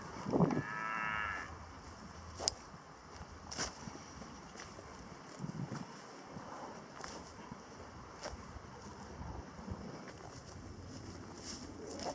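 Cows moo faintly across an open field, their low calls distant and broken up under steady wind and microphone rumble.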